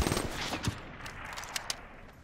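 Faint, distant video game gunfire crackles in irregular bursts beneath a dense wash of noise, with a couple of sharper shots standing out.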